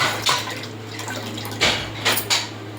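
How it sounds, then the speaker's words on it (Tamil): Idli plates and pots rinsed in water, with a few loud metallic clanks and splashes over a steady low hum, the dish noise standing alone without speech. "நான் தொட்டி தண்ணியில் கழுவுனதுனால இந்த நல்ல தண்ணியிலையும் கொஞ்சம் கழுவிடுவேன்"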